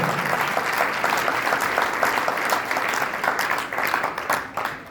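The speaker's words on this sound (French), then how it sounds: "Acclame très fort." A crowd at a testimony gathering claps hard, dense, steady applause filling the room for the whole stretch and thinning slightly near the end.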